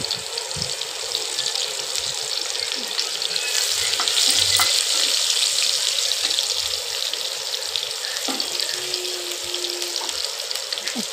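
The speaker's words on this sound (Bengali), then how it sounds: "এবার ফোড়ন হিসাবে তেজপাতা আর পেঁয়াজ দিয়ে দেবো।" Onion and bay leaf fry in oil in a pan, making a dense, bright, steady sizzle close up with faint scattered clinks, no speech.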